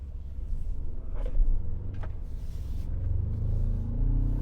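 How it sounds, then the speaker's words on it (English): A new 2019 Ford Ranger's turbocharged 4-cylinder engine idles and rises with a low, wheezy rumble, heard from inside the cab with a couple of brief clicks and knocks. "The engine actually sounds very turbocharged."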